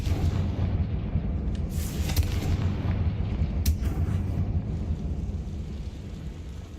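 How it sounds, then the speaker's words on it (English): Confringo explosion spell in Hogwarts Legacy, heard as a heavy, booming blast with a rolling low rumble that carries on, plus a couple of sharp cracks in the middle. "Confringo!"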